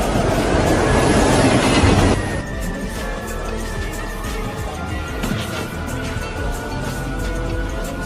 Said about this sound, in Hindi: वो आ रहा है, ट्रेन आ रही है।